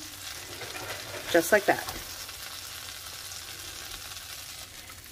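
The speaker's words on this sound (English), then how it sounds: "I'm going to place this right into my preheated pan" Dredged chicken piece laid into a preheated pan for Marry Me Chicken, giving a short burst of sizzling and frying crackle over a low steady hiss, with a brief spoken remark.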